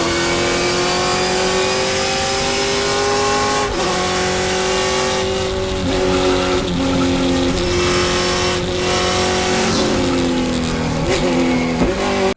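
A Hennessey Camaro TA2 race car with a K-Tech LS3 racing V8 of about 12 or 13 to 1 compression revs loudly and continuously up close, its pitch rising and dropping sharply through repeated gear changes.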